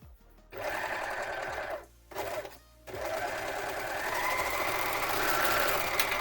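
A sewing machine runs in steady bursts while stitching a sinuous curve into fabric, with two short pauses early on before a long continuous whir of needle and motor.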